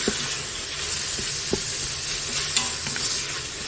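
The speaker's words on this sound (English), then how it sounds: "we are in the sizzle mode" Food sizzles and crackles steadily in a hot pan, a close, continuous hiss with occasional small pops and no voices.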